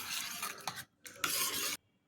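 A spoon stirring nungu nannari sarbath with nannari essence, a close scraping swirl in two bursts with a brief pause between, ending abruptly.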